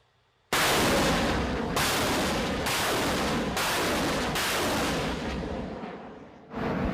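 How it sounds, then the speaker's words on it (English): Czech-made multiple launch rocket system near Avdiivka firing rockets: a rapid series of loud, roaring launch blasts close by, one after another, with no speech. "The Czech-made multiple launch rocket system has a range of about 20 kilometers."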